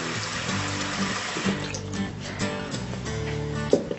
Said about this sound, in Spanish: Vamos a poner un poco de agua para cortar la cocción.